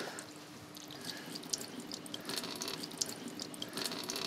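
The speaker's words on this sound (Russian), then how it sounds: "Ты должен немного промыть проточной холодной водой." Cold tap water runs steadily over raw chicken in a kitchen sink, a continuous close splashing hiss broken by small drips and splatters, with no talking.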